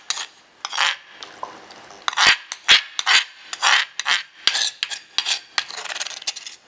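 Salsa roja ingredients are ground into a paste in a stone molcajete, heard close up as repeated rough, gritty scraping and rubbing strokes in uneven bursts, with a few sharp knocks of stone on stone. No voices are heard.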